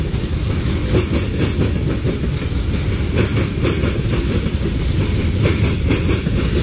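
A train rolls over a rail crossover where Union Pacific and BNSF lines meet in Saginaw, Texas, its loud, continuous wheel rumble broken by rhythmic clacks and bangs as cars pass the joints.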